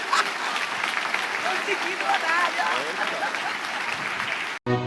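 A church congregation claps at length, in a dense and fairly loud wash of applause with some voices mixed in, before it cuts off abruptly at the end.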